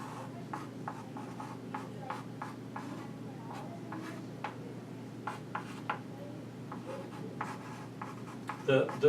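Chalk or marker strokes on a board during a maths lecture come as faint, quick taps and scratches in an irregular rhythm over a low room hum.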